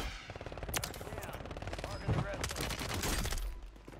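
Rapid automatic gunfire rattles continuously in a Warzone match, dense bursts of shots from behind the player filling the scene, fairly loud and sustained, with a voice talking over part of it.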